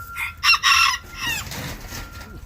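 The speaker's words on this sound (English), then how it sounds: "the rooster says good day to everybody" A rooster crows loudly nearby, a sharp two-part call followed by softer clucking and farmyard noise.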